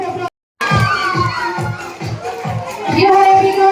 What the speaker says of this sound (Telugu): అర్చన గారు give her a big round of applause.